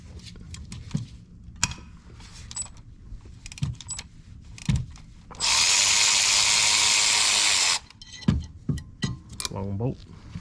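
A power tool on a 2018 Honda Accord 1.5 turbo, removing 10mm heat shield bolts, whirs in one sustained burst of about two seconds, with clicks and clinks of handling before and after and someone speaking intermittently.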